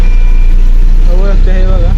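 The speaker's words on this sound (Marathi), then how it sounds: "बघू शकतात खूप ट्रॅफिक जाम आहे घनसोलीला, फुल ट्रॅफिक जाम आहे." Vehicles sit in a heavy traffic jam at Ghansoli, with a loud, constant low engine rumble close by and a few horn-like tones over it.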